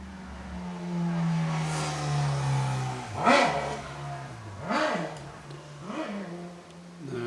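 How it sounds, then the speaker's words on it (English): A motorcycle engine idles with a steady low hum, then revs up sharply three times in quick bursts, each climbing and falling back, fairly close. "Somebody likes the sound of their own motorcycle."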